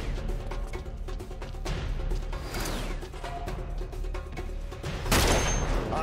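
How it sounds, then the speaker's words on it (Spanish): Enemy gunfire in the Uncharted 3 video game: rapid, dense volleys of shots with mechanical clatter, loud and continuous, surging into a heavier burst near the end. "¡Mientras disparan,"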